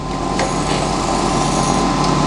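Metabo jointer planer knives being ground with coolant: a dense, continuous abrasive grinding roar with steady machine drone, loud and close throughout, no voices.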